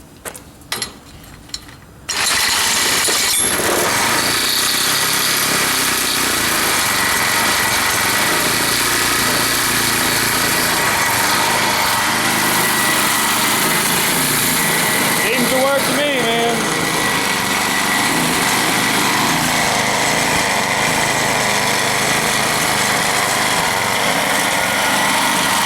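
An old vertical-shaft lawnmower engine sputters with a couple of short pulls, catches after about two seconds, then runs at a loud, steady, buzzing drone nearby.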